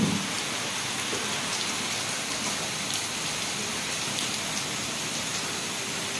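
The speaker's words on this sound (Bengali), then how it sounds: "বৃষ্টি পড়ছে কত।" Heavy rain pours down steadily after days of continuous downpour, a dense, even hiss of drops striking surfaces that stays loud and unbroken throughout.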